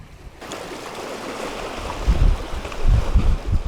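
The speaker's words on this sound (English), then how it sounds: "Just found my way down by the river at St. Mary's Lake, and the view is absolutely spectacular." Steady broadband rushing water of a river beside St. Mary's Lake in Glacier National Park, a constant near wash with a few louder low surges toward the end, no voices.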